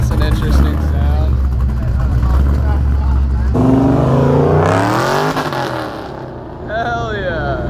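A Mazda RX7 formula race car with a four-rotor engine and massive turbo revs loud and close, its pitch sweeping up and down through raspy harmonics, while people talk over it.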